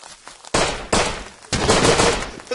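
Gunfire from the video game Rust: loud bursts of rapid shots in three distinct volleys, each starting abruptly and trailing off, with no talk over them.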